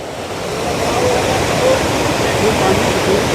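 Canal water from the Bhakra canal surges with full force through a large breach, a loud, steady roaring rush of water that fills the whole stretch without break.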